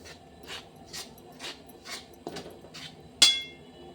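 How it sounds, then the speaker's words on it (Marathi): Cardamom pods are pounded by hand in a steady rhythm of soft, muffled thumps about twice a second, close by, ending with a sharper metallic clink. "मी इथं विलायची कुटायली घेतली"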